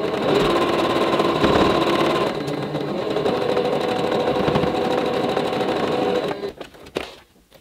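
A sewing machine runs steadily at close range while stitching tulip quilt block pieces, giving a continuous mechanical whir that slows and stops near the end.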